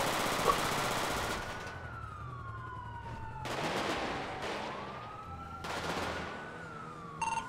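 Gunfire and police sirens in GTA 5 roleplay near Legion Square, with wailing sirens sweeping up and down and bursts of rapid shots between them at moderate distance.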